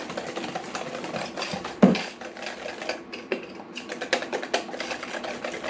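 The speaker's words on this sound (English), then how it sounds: "Whisk all that up." Fish batter made with beer being whisked in a bowl for crappie tacos, a quick busy patter of clicking, tapping strokes with a few sharper knocks, close and fairly loud with no talking.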